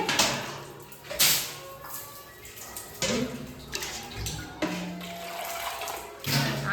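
Tube-well water splashing against a dirty bathroom wall as it is washed down, a steady running and pouring noise with sharper splashes every few seconds, close and fairly loud.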